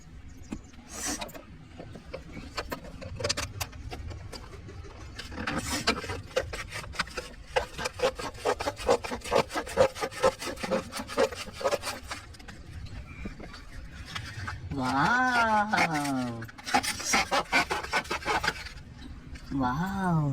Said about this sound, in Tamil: இப்ப நம்ம அந்த உண்டியில ஓபன் பண்ண போறோம்